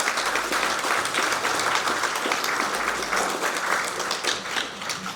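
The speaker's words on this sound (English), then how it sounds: "Everybody, give him a big round of applause." An audience at a presentation applauds a volunteer returning from the stage, a continuous, fairly loud burst of many hands clapping throughout.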